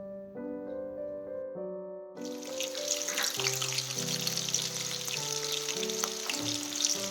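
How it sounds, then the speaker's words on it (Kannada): Music plays, then a burst of oil sizzling starts abruptly as crushed garlic hits tempering oil, crackling steadily underneath the melody. "ಸ್ವಲ್ಪ ಜಜ್ಜಿದ ಬೆಳ್ಳುಳ್ಳಿ ಹಾಕೊಂಡಿದೆ ನೋಡ್ರಿ ಈ ಒಗ್ಗರಣೆಗೆ"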